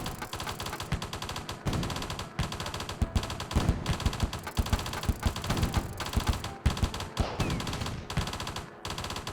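Rapid bursts of gunfire from the strategy video game Hydraulic Empire rattle almost continuously, loud and close, with short gaps between volleys.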